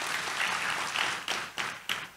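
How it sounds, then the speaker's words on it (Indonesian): A church congregation applauds together, a steady wash of clapping with a few louder bursts toward the end. "Tepuk tangan yang meriah buat Tuhan Yesus."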